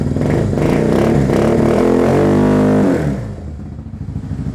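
A freshly overhauled motorcycle engine runs close by, revving up and holding a loud, buzzy note before dropping back to a lumpy idle.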